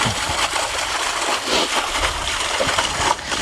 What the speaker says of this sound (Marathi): 3च्या मोटरपेक्षाही कमी स्पीडनं पाणी इथं मारत आहे